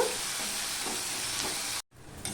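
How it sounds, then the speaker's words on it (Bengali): Onions with salt frying in a pan until reddish for a pabda fish curry make a steady, close sizzle with faint stirring scrapes, then cut off abruptly near the end. "দেখো পেঁয়াজটা পুরো লাল লাল করেই ভেজে নিয়েছি"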